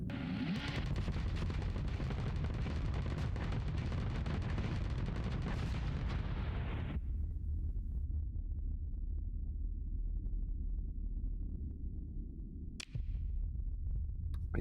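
Spaceship weapons firing in the space combat game Starsector: a dense, roaring barrage of rapid blasts for several seconds that abruptly cuts to a low rumbling drone, broken by one brief sharp crack near the end.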